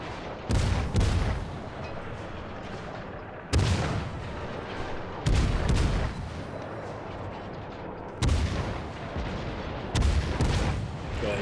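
Naval shell fire in the World of Warships video game, with four or five heavy booming salvos at irregular intervals, each a loud close blast fading into a long rumbling tail.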